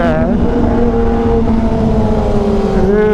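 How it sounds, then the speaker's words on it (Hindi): A BMW S1000RR sportbike engine revs hard and loud close by, a dense roar with sharp crackling backfire pops cutting through the exhaust note. "ये भाई साहब बहुत जबरदस्त बैकफायर"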